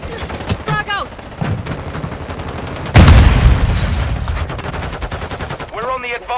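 In Call of Duty Warzone, a frag grenade goes off in a sudden loud blast partway through, surrounded by rattling gunfire, with voices calling out over the battle.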